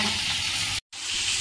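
Previously fried fish reheating in a pan, a close, loud crackling sizzle of hot oil with stirring, broken by a very brief gap before the sizzle resumes.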